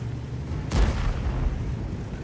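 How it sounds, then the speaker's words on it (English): An artillery shell slams into an AMX 65t tank in World of Tanks: a single deep boom with a short crackling burst, heard over steady low engine rumble. "Another artillery shot onto me."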